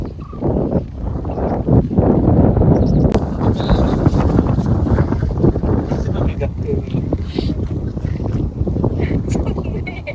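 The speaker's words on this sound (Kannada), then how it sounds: "ಮೊಬೈಲು ಲೈಕ್ ಈಗ ಹಾರೋಗೋ ರೇಂಜ್ ಅಷ್ಟು ಗಾಳಿ ಬರ್ತಿದೆ" Strong wind blows straight into the microphone outdoors at Kalasa during a pre-wedding shoot, producing a loud, roaring low rumble that buffets continuously across the whole stretch, with voices partly buried beneath it.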